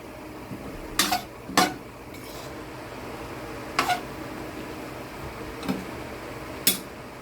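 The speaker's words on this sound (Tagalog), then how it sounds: "Tapos halo haloin lang po para maluto kagad yung gulay." Carrots and beans are stirred in a pan for pancit bihon, a few sharp utensil scrapes and clinks against the metal spaced irregularly over steady quiet kitchen background.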